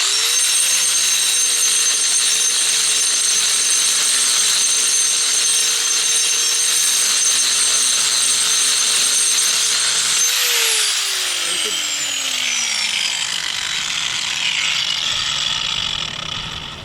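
Power grinding wheel working down high spots on a concrete porch, a steady loud whine with harsh abrasive hiss that holds for most of the stretch, then pitches down and slows as the wheel spins off near the end.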